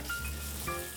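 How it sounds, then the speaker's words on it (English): Bacon fries in olive oil in a pan, giving a steady close hiss of sizzling with faint crackles, alone and without talk. "We're gonna start by frying up the bacon."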